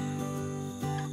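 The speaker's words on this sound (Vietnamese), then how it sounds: "Đây chính là một con ve sầu." A cicada in a deep forest gives a steady, continuous droning buzz with a sustained tonal hum, fairly close and even in level throughout, with no voices over it.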